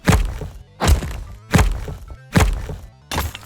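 Five punchy wooden thunks land at a regular beat as towers are built in a tower defense video game, each a short, close, satisfying knock with a brief decay.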